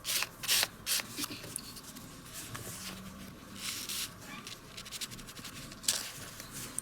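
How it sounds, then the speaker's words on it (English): Fine folded sandpaper rubbing over a plastic scale tank model, quiet close-up scratchy strokes in uneven bursts, soft and intimate with no talk. "You can use an old piece of sandpaper, fold it up, but make sure it's fine."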